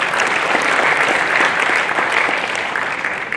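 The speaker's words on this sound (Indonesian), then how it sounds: "Tepuk tangan juga." Audience applause at the closing ceremony of the 2023 Human Rights Festival in Singkawang, a continuous dense clapping from a sizable crowd that holds steady and tapers slightly toward the end.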